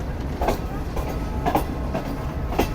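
Green Line passenger train pulling into Gujar Khan station on the Rawalpindi route, a steady rumbling roll with rhythmic wheel clicks about every second, fairly close and continuous with no voices.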